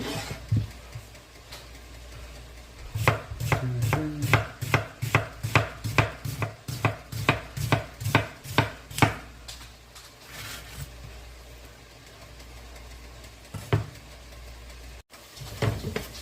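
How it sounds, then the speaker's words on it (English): A knife chops an onion on a board while preparing chili con carne, a quick run of a dozen or so sharp, regular, close-up strikes, followed by quieter handling with no talking. "So we'll continue cutting the onion."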